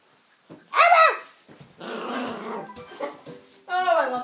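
A pet dog whimpers with high rising and falling whines, then gives short yelping barks, in several close bursts separated by pauses; a person's voice is faintly present nearby.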